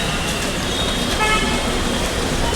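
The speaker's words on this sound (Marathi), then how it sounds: "ट्रॅफिक बघा किती लागले माझगाव कोर्टाजवळ." Congested city traffic in heavy stop-and-go flow near the Mazgaon court in Mumbai after rain, a dense close roadway rumble with a brief car horn toot partway through.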